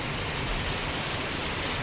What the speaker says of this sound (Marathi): हांगा भायर येतात पाऊस पळोवंक